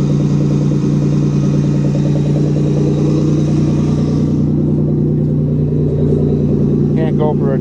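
A Toyota car engine, revved to redline after a cold start following six months of sitting, roars loudly and steadily at close range before dropping to a rough idle; a voice speaks briefly near the end.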